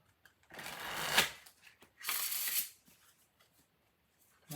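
Tarot cards are shuffled in two quick riffling bursts, close and crisp, with quiet pauses around them.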